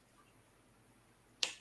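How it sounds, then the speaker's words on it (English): A single sharp finger snap cracks out near the end, crisp and close, after a stretch of quiet room hush. "Finger snap."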